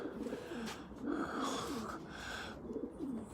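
Pigeons in a breeding loft coo repeatedly, with several throaty rolling calls rising and falling over a few seconds and no talk over them.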